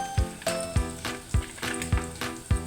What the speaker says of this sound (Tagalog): nagisa na ho ako ng bawang, sibuyas, luya